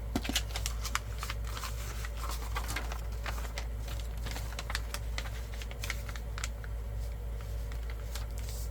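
Paper is folded and creased by hand while making a vintage bundle of postage letters, giving a soft continuous rustle with scattered crisp crinkles over a low steady background hum, no talking.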